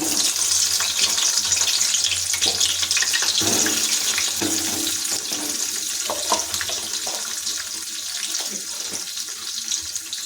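Cut eggplant pieces drop into hot oil and fry with a loud, dense, even sizzle like rushing water, close up and continuous, easing slightly in the second half.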